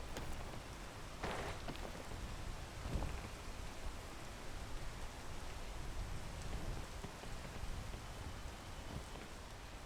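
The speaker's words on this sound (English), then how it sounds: "This rain." Video game rain falling in a steady, faint hiss of drops, with a few brief louder patters near the start and no voices.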